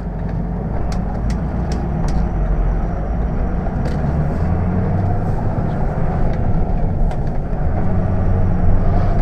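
A 2005 Ford F-350 turbo diesel pickup with a 5-speed manual rolls over a bumpy road, heard as a steady, loud cabin rumble. Small knocks and rattles come through now and then.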